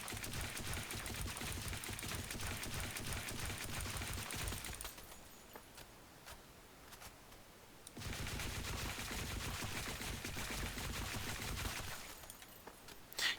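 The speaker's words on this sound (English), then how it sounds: "Let's just test out the standard AK just so you can see how it is on our server" AK rifle fired in a video game, with long sustained bursts of rapid automatic fire, a quieter pause in the middle, then another extended burst, ending with a sharp louder crack.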